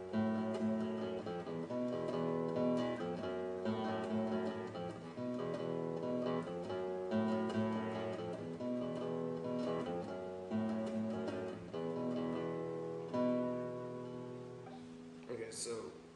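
Guitar playing a song's riff, a steady repeating run of plucked notes at an even tempo that is clear and close, ending with a brief rough scrape.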